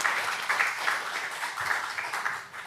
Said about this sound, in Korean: 우리 서로를 축하하는 마음으로 격려의 박수 서로 보내주면 좋겠습니다